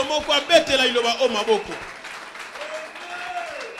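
A church congregation breaks into applause mixed with loud voices and cheers, strongest at the start and then fading into a softer murmur.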